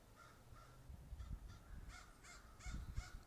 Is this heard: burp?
no